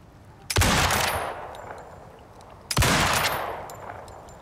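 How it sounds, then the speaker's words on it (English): Two hunting rifle shots ring out in the video game Icarus, each a sharp loud crack trailing into a rolling echo, spaced about two seconds apart with no talking. "I wonder if they ever fixed this hunting rifle."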